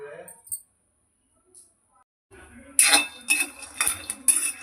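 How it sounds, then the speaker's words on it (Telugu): Peanuts being dry-roasted in a pan rattle and clink against the metal in several loud bursts of stirring after a quiet start, with a voice speaking briefly at the beginning. "ఈ పల్లీలను ఇలా వేయించుకుందాం."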